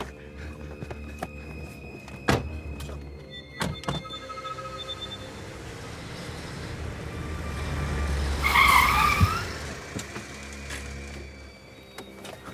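A car pulls away with a loud tyre skid rising to a peak near the end, after a few sharp thunks like doors shutting, in a tense night outdoor scene with no talk.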